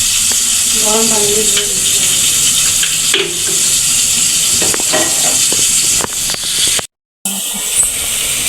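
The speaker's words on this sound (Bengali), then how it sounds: "পেঁয়াজ ভাজা হয়ে গেছে" Onions frying in hot oil, a loud close sizzle running throughout with brief bursts of a voice underneath and a short cut to silence near the end.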